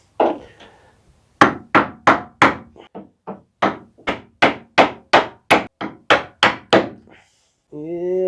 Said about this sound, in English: I'm going to pound them out a little bit more, and then we'll undo the clamps.